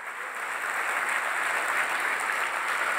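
A church congregation claps for the Lord during an evening service, steady continuous applause heard at a moderate distance.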